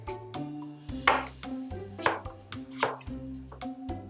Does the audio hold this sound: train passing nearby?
no